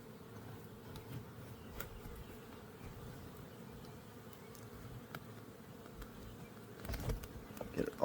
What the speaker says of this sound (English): because we don't want to crush these bees.